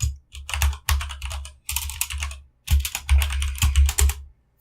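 Bursts of rapid keyboard typing at close range while HTML code is written in the PhpStorm editor, clattering in several quick runs separated by short pauses, with no talking.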